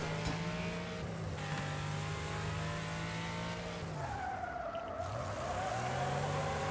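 Racing car in the video game Wreckfest sliding through a tight turn on the e-brake: steady engine drone, a drawn-out tire squeal, then the engine pitch rising again as it pulls out, fairly quiet.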